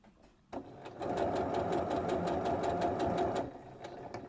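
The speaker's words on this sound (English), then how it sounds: "I'm just going to take the stitching right up to that folded edge." A sewing machine stitches bias binding in one steady, rapid mechanical run of about three seconds. It starts with a click and stops abruptly, and the close rhythmic whirring and needle ticking play alone.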